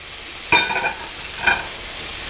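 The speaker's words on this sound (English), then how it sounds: "Then we're going to stir it around." Pancetta being stirred into a pear sauce in a hot pan, two distinct scraping stir strokes about a second apart over a soft, steady frying hiss, close and with no talk.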